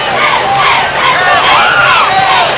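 A large high school football crowd cheers and shouts continuously in a stadium during a night game between the Northwestern Trojans and the Summerville Green Wave, a dense roar of many voices close and loud throughout.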